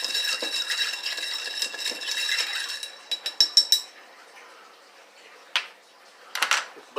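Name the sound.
stir stick stirring hot sauce screwdriver drink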